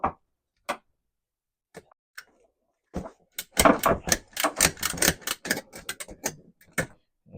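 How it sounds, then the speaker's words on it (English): A Vevor retractable ratchet strap is cranked tight, with a few sparse clicks followed by a rapid, close series of sharp ratcheting snaps and clacks. "It ratchets on like that."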